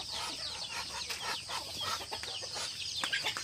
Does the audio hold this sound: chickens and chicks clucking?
yes